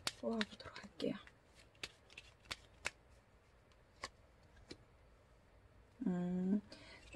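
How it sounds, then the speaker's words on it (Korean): Tarot cards shuffled and drawn during a reading, with soft scattered card flicks and snaps at close range, a faint papery rustle between them, and a voice speaking briefly at the start and again near the end. "8월 연애운의 조언 카드 뽑아보도록 할게요."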